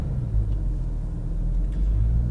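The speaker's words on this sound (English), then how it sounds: "Little throttle will move the car over the stop" A Porsche 911 GT3 RS engine idles low and rumbling, then pulls forward gently on light throttle as the clutch engages. The deep, steady drone is heard up close from inside the car.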